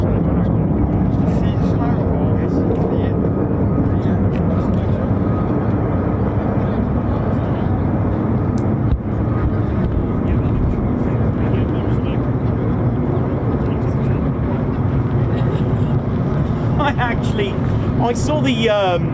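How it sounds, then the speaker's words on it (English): F-15 and F-35 fighter jets at RAF Lakenheath, a US Air Force base, give a loud, continuous roar that holds steady for the whole span, with the afterburner cutting out as the landing gear retracts; people talk over it. "I forgot to let you know that the afterburners turned off so that the gear can retract."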